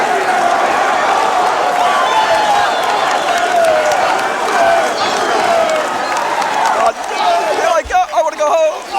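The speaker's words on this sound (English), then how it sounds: "Crowd is chanting, we're number 1. We'll let you listen to the crowd." A large crowd at a 1999 high school wrestling match between Paulsboro and Phillipsburg roars and chants continuously in a loud, dense wall of voices, with scattered shouts and claps breaking through near the end.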